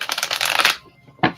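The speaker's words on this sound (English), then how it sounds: "Final shuffle." Tarot cards being given a final shuffle, a dense papery riffle lasting most of a second, then a short pause before a brief second burst of card noise, close and fairly loud.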